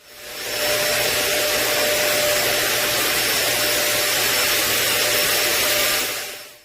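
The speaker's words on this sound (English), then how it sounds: "The HOCl is sprayed using an ultra-low volume fogger, which distributes the HOCl as a very small particles" An ultra-low volume fogger sprays HOCl disinfectant as a fine mist in a clinic, giving a loud, steady hissing roar that rises in within the first second, holds flat for several seconds and then tails off at the end.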